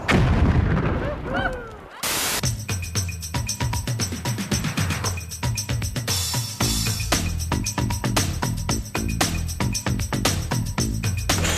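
A dynamite explosion bursts out as a loud, rumbling boom that fades over about two seconds, followed by rhythmic, punchy music.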